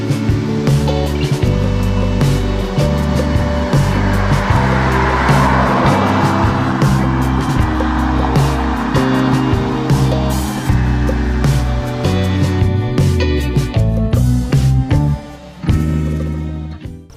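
A 2015 Hyundai Genesis engine revving hard toward its 6,500 RPM redline, loud and close, rising in repeated pitch sweeps broken by automatic upshifts before the limit, then a brief drop and a final surge.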